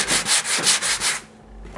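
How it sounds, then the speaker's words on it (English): A hand sanding pad scrubs painted trim to take the gloss off, making six quick, rhythmic back-and-forth rasps, close and steady. The strokes then stop, leaving a faint hush. "I'll just sand it with my little sanding pad right here"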